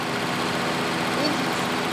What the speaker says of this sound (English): So this is a common idle for a car with dual Zenith carburetors.